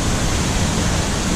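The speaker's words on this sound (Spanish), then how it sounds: "Aquí está la famosa cascada" A waterfall at Riecillo roars as a loud, dense, unbroken rush of falling water, close and steady, with no voices.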